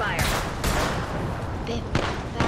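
Gunfire in the video game Apex Legends comes as several loud, close bursts of rapid shots with brief gaps between them, while a voice talks over the action.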